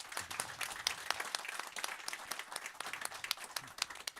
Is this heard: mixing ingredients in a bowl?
no